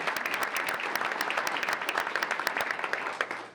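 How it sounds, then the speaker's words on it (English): A room of people gives a round of applause in honour of an award-winning group, with dense, steady clapping at an even level throughout. "let's give them a round of applause"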